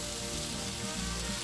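Mushrooms and pressed garlic fry in a pan with a dense, steady sizzle that fills the moment evenly, close and fairly loud.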